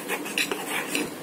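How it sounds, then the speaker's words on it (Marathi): A spoon stirring moong dal appe batter mixed with Eno and water in a bowl, heard as quick close clinks and wet scraping strokes in a short burst with no talking. "आणि एकाच डायरेक्शनने ढवळून घ्यायचं"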